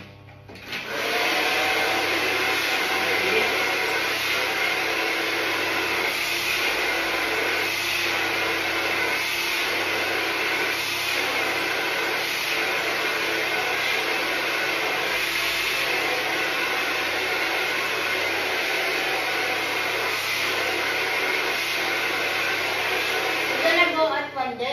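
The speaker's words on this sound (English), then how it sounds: "I'm doing now the blow dry" A hair dryer blows steadily at a salon while a customer's hair is styled, a loud constant whooshing roar that runs almost the whole time, with faint voices now and then beneath it.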